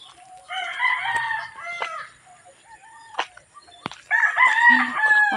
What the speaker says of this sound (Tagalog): Pang sabong na manok.